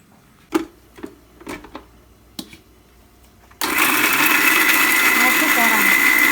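Mixer grinder switched on to grind coconut for a minced meat and fenugreek leaves dish, a sudden loud steady whirring roar starting midway after a few light clicks and knocks, close by.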